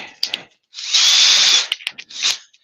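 Cordless drill runs in a sustained high whine for about a second, framed by short bursts and clicks before and after, close and fairly loud with no talk.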